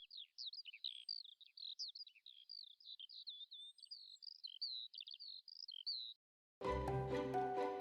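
Migratory birds overhead near the salt lake at Suvla on the Gallipoli peninsula: a continuous flock of faint, high twittering calls in a quiet open setting, cut off abruptly by a burst of music at the end.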